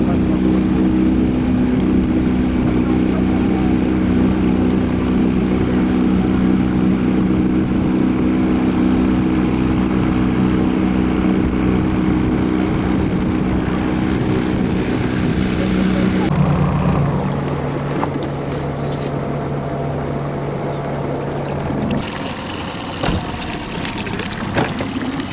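Motorboat outboard engine on a lake in the Danube Delta, a loud, steady droning hum close by that shifts pitch and eases off partway through, with people talking over it.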